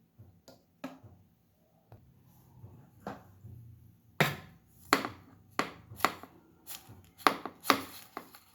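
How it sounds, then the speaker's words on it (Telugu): Jaggery being grated in a home kitchen while making sweet laddu balls, heard as a sparse run of crisp scraping strokes that start slow and come quicker and louder toward the end, close by with no talk. "దీంట్లో బెల్లం కోరేసి మళ్ళీ ఒకసారి పడతాను మిక్సీ."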